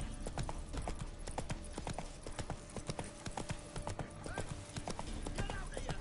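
Roach, Geralt's horse in The Witcher 3: Wild Hunt, gallops in quick, steady hoofbeats that run continuously and close. Game sound and voices sit underneath, and there is a brief whinny.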